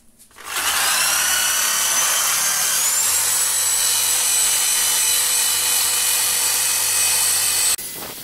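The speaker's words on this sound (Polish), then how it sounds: "polecam wiertarkę z taką właśnie szczotą i po prostu po kawałku jedziemy po karterach" An electric drill fitted with a wire brush spins up and grinds steadily against the crankcase of a 1985 WSK 125 motorcycle engine, scrubbing off old gasket material in a loud, bright, continuous whir for several seconds before stopping.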